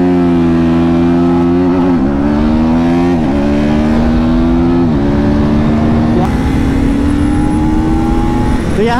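Two motorcycles, an Apache RTR 310 and a KTM Duke 250, drag racing: a loud, close engine roar climbs steadily in pitch, with brief dips at gear shifts around two, three and five seconds, then continues rising.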